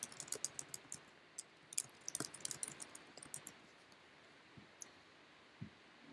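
Keys tapped on a computer keyboard in quick irregular bursts of small clicks, fairly close but quiet, with no one talking.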